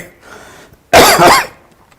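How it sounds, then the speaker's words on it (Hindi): A single loud, harsh cough bursts out nearby, lasting about half a second, with quiet room background before and after and no talking. "क्या ऐसी खांसी हो गई है भाई, आती है तो लगातार आती है"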